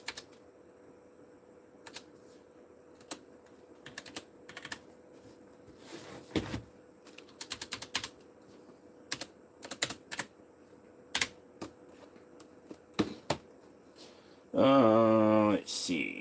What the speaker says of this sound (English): That's not what I'm actually typing.